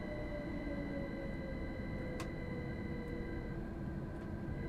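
Steady low rumble of a Gatwick Express Class 387 electric train running in Train Sim World 5, with constant rolling drone and faint tonal whine throughout, no talk.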